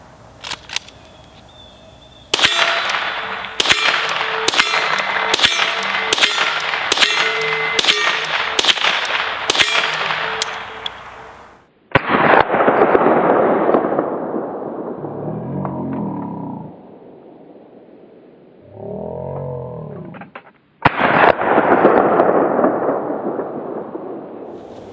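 A Henry youth .22 lever action rifle fires a quick string of sharp cracks about every half second, close and loud, followed by metallic lever clanks and a few more shots after a pause.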